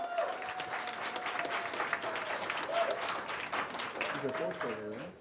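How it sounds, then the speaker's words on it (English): Staff at a hotel employee awards gathering applaud steadily throughout, with a voice briefly audible over the clapping near the end. "Give everyone a round of applause that's here."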